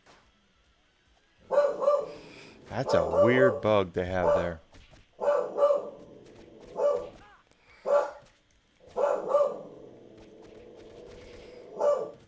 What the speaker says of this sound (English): I can already hear him barking.